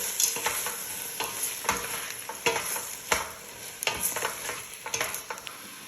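Garbanzos are stirred around a sizzling pan, the utensil scraping in irregular strokes over a constant frying hiss, close up with no voices.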